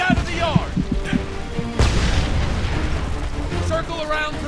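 A heavy boom of cannon fire in the war game Homefront cuts through a tense battle scene, followed by rumbling explosion decay, with shouted voices and other combat noise around it.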